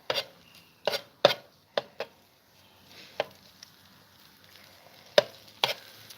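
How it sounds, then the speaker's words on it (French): Egg being stirred into rice on a plancha griddle: sparse, sharp utensil taps and scrapes in an irregular rhythm, close by, with faint sizzling in the quiet gaps. "Donc elle mélange l'œuf avec le riz."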